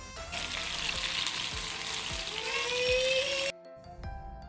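Soft bele fish fry steadily in oil with a constant close sizzle and a few light scraping touches, and the frying cuts off abruptly near the end.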